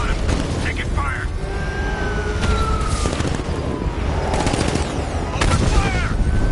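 Gunfire rattles through a Batman: Arkham Knight shootout, with sharp cracking shots in clustered bursts over a loud, dense background of engines and action, while voices shout over it.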